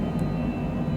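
A Citation Longitude business jet climbs out after takeoff from Providence, heard from inside as a steady, dense, low engine roar with no speech over it.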